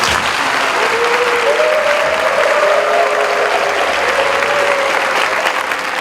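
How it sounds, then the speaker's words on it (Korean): Audience applause at an invited lecture at the Korean National Police University, a loud, dense, steady clapping from a large crowd lasting throughout, with a faint tonal sound running briefly beneath it. "박수로 모시겠습니다"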